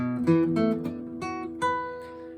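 Several fretted guitar notes are plucked one after another, plain and quiet, each ringing briefly before the next, with a final note left to sustain.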